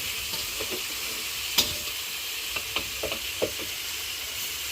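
Pork adobo with string beans stirred in a pan, a soft steady sizzle with scattered knocks and scrapes of the utensil, one sharper clack near the start, quiet and close with no talking.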